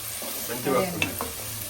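Onions and green chillies frying in a pan, a close, steady sizzle with a brief stirring scrape in the middle.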